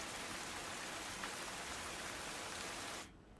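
Heavy early-morning rain pours down across Junagadh district in Gujarat, a dense, loud, steady hiss of rainfall that cuts off abruptly near the end.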